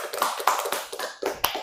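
A small group claps during a school group counseling session, a brief uneven burst of hand claps with distinct separate slaps, close and fairly loud, alone without talk.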